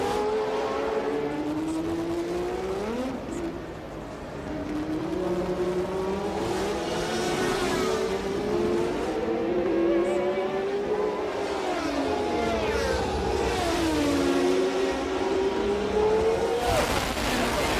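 Formula One race cars at the 1981 San Marino Grand Prix, a Renault among them, scream loudly and without a break, their engine pitch climbing and dropping again and again through gear changes as the cars pass close by.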